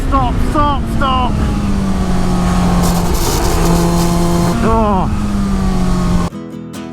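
A Suzuki K6 motorcycle engine drones loudly and steadily through an endurance race in Benidorm, its pitch sagging and rising with a few gear changes, while a voice talks over it before the sound cuts off abruptly near the end.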